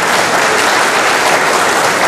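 A church congregation at a 10:30 am Mass claps steadily and loudly, a dense, even wash of applause with no voices standing out.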